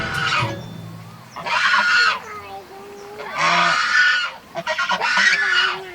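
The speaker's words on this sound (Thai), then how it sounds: "อะไรร้อง เป็ด" Loud, nasal honking quacks from a nearby duck at a small temple zoo, several harsh calls in bursts with short pauses.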